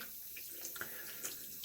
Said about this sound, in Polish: Zawsze spłukuję maszynkę pod bieżącą wodą.